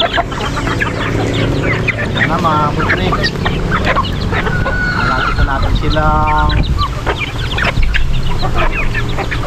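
Chickens cluck and a rooster crows repeatedly, a busy, close-up flock with steady squawks over a noisy farmyard background.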